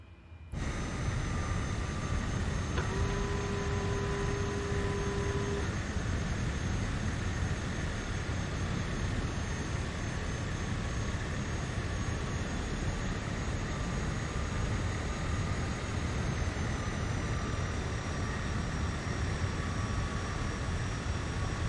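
Engine drone of a small cargo and passenger plane in Microsoft Flight Simulator, flying near the Grand Canyon: a steady, loud, unbroken roar with a faint tonal hum, holding constant for over twenty seconds.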